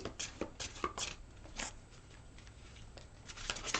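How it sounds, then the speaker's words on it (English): Tarot cards riffle and slap together in quick, close bursts of papery shuffling, quieter in the middle and picking up again at the end. "Last shuffle."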